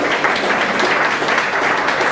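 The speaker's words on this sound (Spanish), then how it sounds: "Y dar un aplauso a nuestro Dios del Señor" Dense, continuous applause from a congregation at a church service, steady and fairly loud for the whole stretch with no break.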